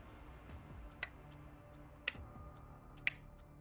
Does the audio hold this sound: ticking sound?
yes